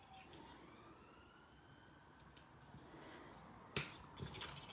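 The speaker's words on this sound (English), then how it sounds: "Oh goodness, another ambulance." An ambulance siren passes by outside a home craft room, its wailing tone faint and distant, rising and falling under a quiet background with a couple of sharp close clicks near the end.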